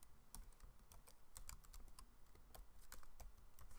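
Typing code on a computer keyboard, quick irregular key clicks in bursts, close but quiet, with no voices.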